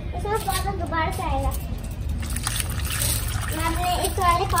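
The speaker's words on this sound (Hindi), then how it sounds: "मैं पौधे में पानी डाल रही" Water poured onto a potted plant, steady splashing and trickling heard under a woman's and a child's chatter throughout.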